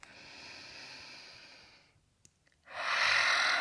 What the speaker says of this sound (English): take one big inhale through the nose. Exhaling through the mouth.